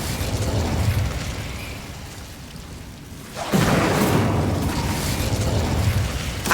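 The Incendio fire spell in Hogwarts Legacy bursts out with a loud whooshing roar that swells suddenly and keeps burning as a broad rushing flame.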